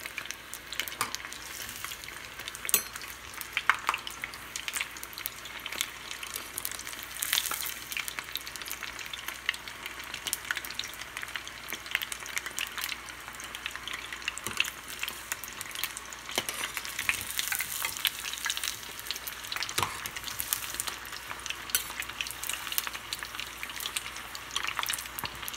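Steady, dense sizzling of chicken lollipops deep frying in hot oil, a continuous crackle with occasional louder pops, close by and with no talking.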